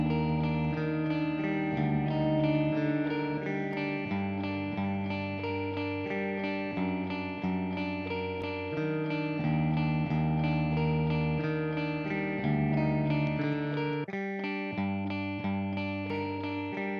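A clean electric guitar riff from the Riffler iOS app plays steady, sustained chord notes that shift every couple of seconds, washed in reverb and delay at an even volume with no voices.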